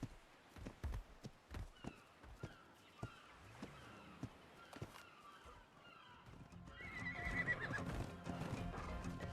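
Horse in ARK Survival Ascended on the Valguero map, with a run of distinct hoof clops and whinnies, then a louder neigh and rustling movement near the end.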